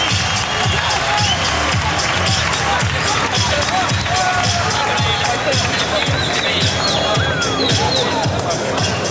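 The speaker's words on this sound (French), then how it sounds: "Vos applaudissements." An audience at a boxing tournament applauds and cheers, a loud, continuous wash of clapping and crowd noise mixed with babbling voices.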